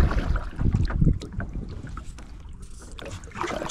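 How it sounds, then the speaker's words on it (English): A kayak paddle dips and lifts while fishing, giving close, irregular splashes and watery swishes that rise and fade, with some wind buffeting on the microphone and no voices. "This paddle is aggravating. It dips water across you every time you lift up."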